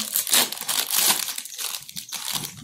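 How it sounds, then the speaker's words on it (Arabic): A plastic gift bag is pulled open at a family gift-opening challenge, giving close, steady crinkling and rustling for the whole stretch with a few louder crunches and no talk over it. "يلا دودي افتحي الكيس، بسم الله."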